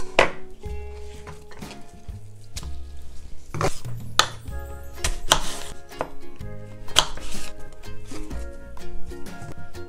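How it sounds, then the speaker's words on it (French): A knife slicing apples into thin slices, with repeated crisp chopping knocks on a board at an uneven rhythm, close and moderately loud, with some background music. "il faut que je les coupe en fines tranches pour qu'elles puissent cuire tranquillement"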